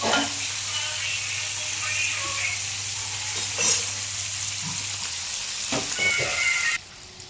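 Fish frying in a pan over a low flame gives a steady, close sizzle that runs the whole time, with a few small clinks and stirring touches and no talk.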